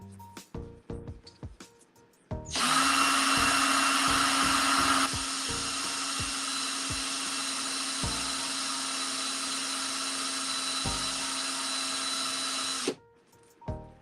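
A power tool sands a coin ring with 1500 grit paper, a loud steady high whine that starts abruptly, drops slightly in level partway through and then cuts off, with quieter clicks and handling noise before and after.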